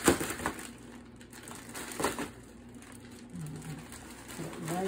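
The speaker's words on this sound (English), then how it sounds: "Put it right in the middle of this ice." A plastic bag of ice cream mix pushed down into a container of ice, giving close, crunchy grinding bursts, the strongest at the start and around the two-second mark, with lighter shuffling between.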